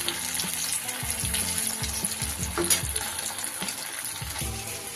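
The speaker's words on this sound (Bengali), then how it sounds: "এইভাবে তেলের মধ্যে দিয়ে লাল লাল করে উল্টে পাল্টে কিন্তু আমি ভেজে নেব সবগুলোকে" Radish pieces frying in oil in a wok, a constant soft sizzle and crackle throughout, with no voices.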